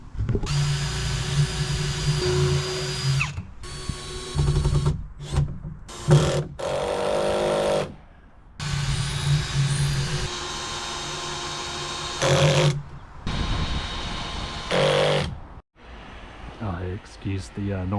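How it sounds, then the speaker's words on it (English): A vacuum cleaner next door drones in loud bursts that start and stop repeatedly, with a person talking over and between them. "Excuse the noise of the vacuum cleaner next door."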